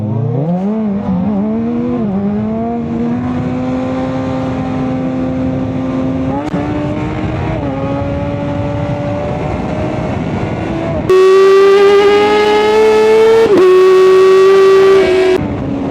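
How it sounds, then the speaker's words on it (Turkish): A Kawasaki motorcycle engine revs hard and climbs in pitch, running loud and close, with a few sharp exhaust pops as it shifts. "güzel egzoz patlatıyor makine ya"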